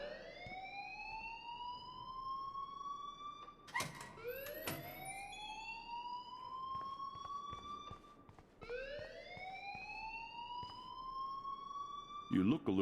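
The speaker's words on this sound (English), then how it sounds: "please turn off that alarm since that's your job" A rising, wailing alarm from the video game Life is Strange sweeps upward repeatedly in long cycles, loud and continuous, with brief bursts of other noise between sweeps.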